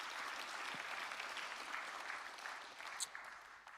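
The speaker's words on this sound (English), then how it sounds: "So a big round of applause" Audience at a young pipers' light music competition applauds the judges, a sustained, fairly faint patter of many hands clapping from some distance, even and unbroken.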